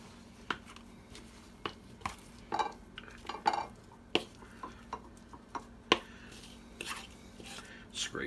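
A spatula scrapes quick bread batter made from pancake mix into a greased bread pan, with repeated soft scrapes and light knocks against the pan at an irregular pace, close and fairly quiet.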